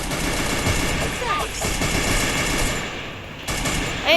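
Rapid MP5 submachine gun fire in a video game, sounding as dense, sustained bursts over a busy mix of game noise, with speech-like chatter running underneath throughout.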